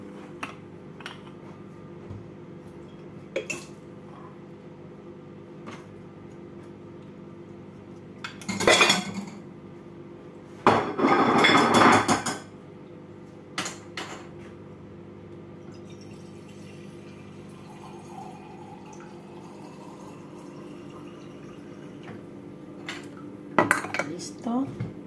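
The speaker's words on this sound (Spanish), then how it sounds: "Y mientras voy a poner la cafetera." In a home kitchen, a coffee maker is set up amid clinks of dishes and cutlery, with two brief rattling bursts of metal and crockery, scattered taps, and a steady low hum, mostly without talk.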